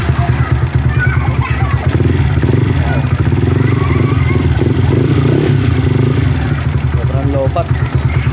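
A Rusi 200 motorcycle engine runs close by, a loud steady chugging idle with rhythmic low thumps and mechanical clatter throughout.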